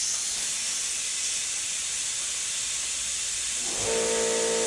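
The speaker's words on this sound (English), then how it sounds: "that little Harbor Freight air compressor, guys, I don't know what I'm going to do when it goes out" A small Harbor Freight air compressor runs with a steady, loud hiss of air, continuous throughout, and near the end its tone shifts as a motor hum with clear harmonics joins in.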